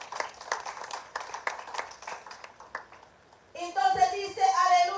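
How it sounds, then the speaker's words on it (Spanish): A church congregation claps at a Christian service, scattered hand claps under a preacher's voice that fade out before music swells in at the end. "Dale el aplauso al Señor,"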